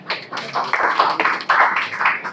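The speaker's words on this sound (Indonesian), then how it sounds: "Boleh tepuk tangan untuk semuanya." A classroom of students claps together in a brief, uneven round of applause, the hand claps close and moderately loud with no talk over them.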